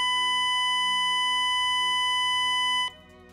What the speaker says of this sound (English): The crew alert is a continuous sounding of the ship's warning system